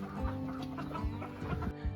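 Elba laying hens cluck in a steady stream at a small coop farm, several birds overlapping at moderate loudness over a continuous low background hum.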